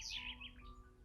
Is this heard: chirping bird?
yes